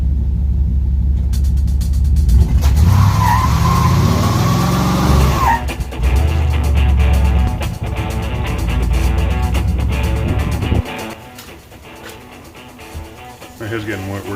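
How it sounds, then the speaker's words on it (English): A 1998 Chevrolet Silverado truck does a burnout in a driveway, its engine roaring and revving hard with squealing tires for several seconds, then dropping back to a lower idle rumble, with voices talking over it. "I guess the real telltale whether you should keep a vehicle is it can do burnout."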